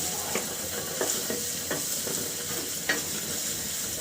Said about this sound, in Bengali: আমি কাঁচামরিচটা কিন্তু খুব সুন্দরভাবে এই ভাজা হয়ে গেছে